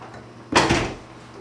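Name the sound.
door opening as a customer walks in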